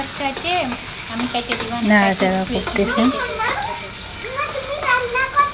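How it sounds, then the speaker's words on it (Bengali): Onions and green chillies fry in a pan with a steady sizzle and stirring, while children chatter and voices talk over it throughout. "পেঁয়াজগুলো ভাজা হয়ে গেছে"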